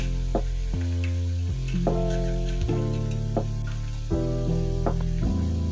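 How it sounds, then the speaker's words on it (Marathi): Onion bhaji (kanda bhaji) frying in hot oil on low gas, a steady close sizzle running throughout with occasional clinks and bumps as the fritters are turned. "अशाप्रमाणे सगळ्या भज्या आपण उलट्या करून बारीक मंद, थोडं कमी गॅसवर तळून घेऊया"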